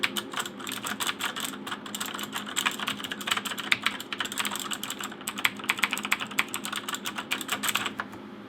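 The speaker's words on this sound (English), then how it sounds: "this is an extremely loud keyboard." Fast, continuous typing on a loud Razer BlackWidow Chroma mechanical gaming keyboard, with dense sharp clicky keystrokes rattling steadily at close range and no voices.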